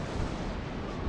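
Ship cannons firing in the naval combat game World of Warships, a dense, continuous rumbling barrage of booms filling the moment, loud and close with no talk.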